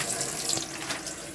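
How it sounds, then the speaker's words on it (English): Water runs steadily from the hot tap of a 2021 Elddis Xplore 304 caravan, a continuous close hiss and splash with no talk. "Open all the taps up on the hot side of the water system"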